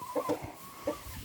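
Backyard chickens give a few short, soft clucks in quick succession, close by and fairly quiet against light background noise.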